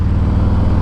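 A 2020 Harley-Davidson Breakout motorcycle rolls into a corner with a loud, steady low engine rumble heard close up, a continuous throb with no clear change in revs over the brief moment.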